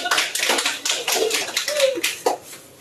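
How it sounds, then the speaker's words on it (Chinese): Wedding guests at a Chinese wedding ceremony give scattered, uneven claps in separate bursts rather than a full wave, close by, with brief voices and laughter mixed between them. "我们大家来点掌声"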